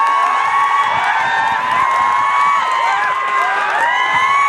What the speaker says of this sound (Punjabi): ਤੁਸੀਂ ਜ਼ੋਰਦਾਰ ਤਾੜੀਆਂ ਦੇ ਨਾਲ ਸਵਾਗਤ ਕਰੋ ਸਾਡੇ ਕਾਲਜ ਦੇ ਫਨਕਾਰ ਜ਼ੋਰਾਵਰ ਸਿੰਘ ਜੀ ਦਾ